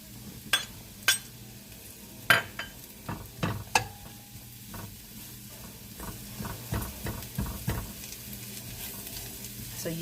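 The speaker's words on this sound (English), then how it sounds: "now I'm going to add the onions, and then I'm going to cover it up" Half an onion goes into smothered potatoes frying in a pan, bringing a steady soft sizzle broken by a run of sharp scrapes and clacks as the spoon stirs, close and fairly quiet.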